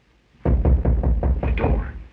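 A rapid series of about eight firm knocks on a door in a 1929 mystery film, close and loud with a muffled, slightly boomy old-soundtrack tone.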